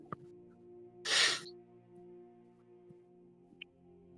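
A single sharp, breathy sneeze bursts out loud and close during a tabletop role-playing game session, then quiet room tone with a low steady hum.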